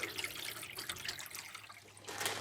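Water runs steadily into a boat's freshly cleaned drinking water tank, a continuous splashing hiss with a low hollow hum underneath that swells louder near the end.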